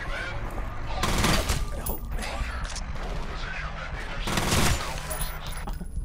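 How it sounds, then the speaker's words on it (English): Bursts of rapid gunfire in the video game F.E.A.R., two louder volleys over a steady background of game noise and a voice talking. "Oh, I hear gunshots!"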